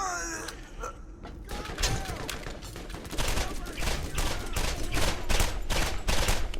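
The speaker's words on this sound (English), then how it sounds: "I'm being shot at." Rapid, repeated weapon fire from Borderlands, the crackling shots arriving in a fast, fairly even stream that grows louder in the second half, with a metallic mechanical clatter mixed in and no talk.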